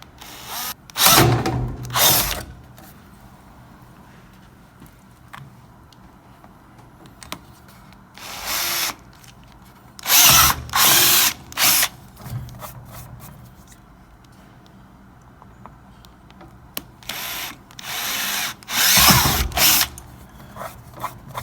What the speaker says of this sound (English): run the drill at a high speed